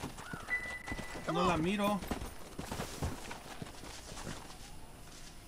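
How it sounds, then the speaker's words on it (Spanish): A horse in the video game Red Dead Redemption clip-clops along with a short whinny, heard close and mixed with someone speaking Spanish over the hoofbeats. "Aquí está el caballo de ellas"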